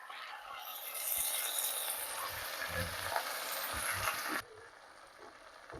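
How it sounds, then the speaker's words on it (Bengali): Boiled khesari lentils tipped into a hot pan with onion stalks, a loud broad sizzle swelling up and then dropping suddenly, with soft stirring scrapes underneath and no voices. "2-3 মিনিট কষে নেওয়ার পরে আমি এই ডালগুলো দিয়ে দিচ্ছি এর মধ্যে।"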